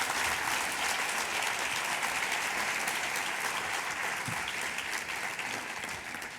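An audience applauds in welcome for José Pepe Esquinas, a dense, even wash of many hands clapping that holds steady throughout and eases slightly toward the end, with no voices over it.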